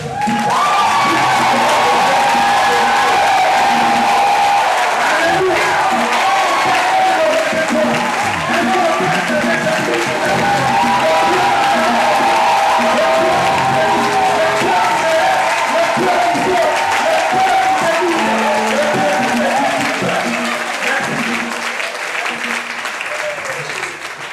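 A church congregation at a seminar cheers and applauds God in a loud, sustained roar of clapping and whoops lasting throughout, with a voice speaking over the crowd.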